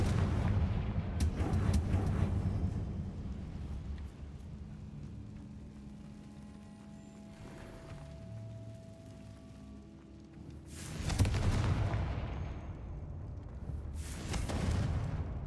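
Confringo blasting spells go off in Hogwarts Legacy as heavy booming explosions, several loud blasts near the start and two more near the end, each with a rumbling decay. Quieter game ambience fills the stretch between them.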